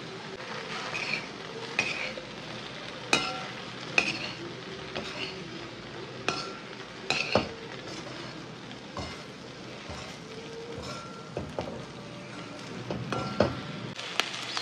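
Okra poriyal stir-fried Andhra style with peanut powder in a pan: a steady soft sizzle with scattered scrapes and clinks of a spatula against the pan, fairly quiet and with no talk.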